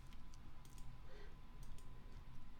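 Faint, quick clicks of fingers typing on a computer keyboard, a short irregular run of light key taps heard alone at low volume.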